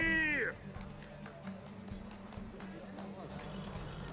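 Rapid hoofbeats of galloping horses in The Witcher 3: Wild Hunt race thunder under a voice, following a sharp high whinny-like cry at the start.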